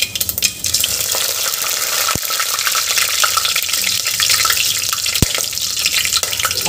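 Cumin seeds and whole spices fry loudly in hot oil after mustard seeds have popped. The sizzle is dense and steady, with a couple of sharp crackles through it, heard close and alone.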